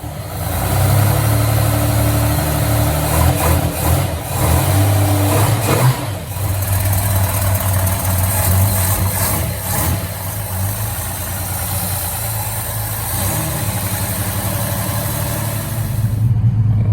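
A 265 Hemi car engine idles steadily after starting, a loud, continuous low rumble with brief rises and dips in revs, close by and with no talking over it.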